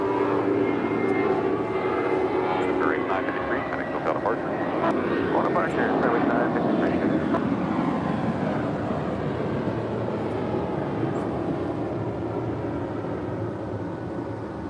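Spirit Airlines Airbus A320 jet departing LAX: a loud, broad engine roar that swells and then slowly fades as the plane climbs away, with faint voices underneath.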